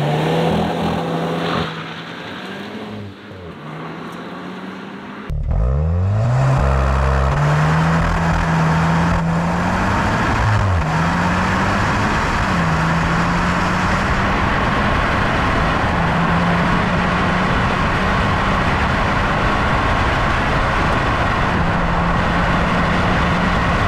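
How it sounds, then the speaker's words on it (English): Hot hatches such as a Toyota Corolla, Honda Civic, Hyundai i30 and SEAT Leon on quarter-mile drag runs: engines idle, then roar through rising revs with repeated gear-change dips, loud and continuous from launch onward, no talking. "you're going to listen to a quarter mile run in each of these hot hatches"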